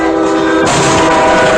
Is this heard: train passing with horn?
yes